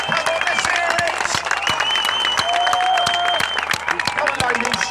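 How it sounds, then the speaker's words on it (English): Crowd applause at a street rally in Sunderland, dense steady clapping with cheers and voices mixed through it, loud and continuous throughout. "Can I hear some applause for them, please?"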